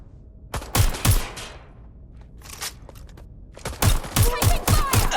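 Gunfire in the video game Watch Dogs: Legion: a first burst of rapid automatic shots, a pause with scattered lighter noises, then several loud sharp shots in close succession, near and punchy.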